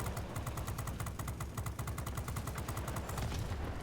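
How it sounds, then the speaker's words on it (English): A Vulcan cannon on an F-94D fighter jet in World of Warplanes fires a rapid, steady stream of shots in one sustained burst, loud and close, over a droning engine. "I still have this nifty Vulcan cannon just hanging out on the front of my plane"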